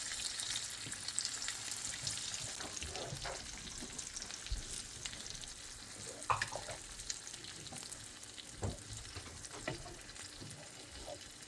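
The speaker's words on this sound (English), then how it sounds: "So we have to fry the pepper for some minutes." Green pepper and onions fry in a pan with a continuous low sizzle and occasional soft stirring taps, faint and steady throughout, with no talking.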